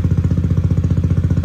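A bore-up automatic scooter engine idles steadily after BRT Juken 5++ ECU tuning, giving a close, even, throbbing putter with quick regular pulses and no voices.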